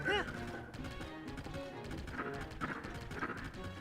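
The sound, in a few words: horse running hooves in video game Zelda Tears of the Kingdom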